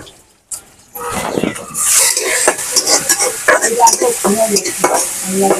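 Dried fish (shutki) fries in a hot pan with a loud, continuous sizzle, broken by scraping stirs of a spatula against the metal, close up and filling the whole clip.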